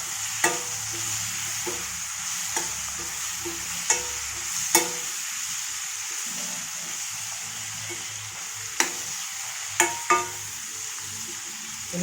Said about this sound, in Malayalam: പിന്നെ തക്കാളി, ഇതിനെ നന്നായി മിക്സ് ചെയ്യുക.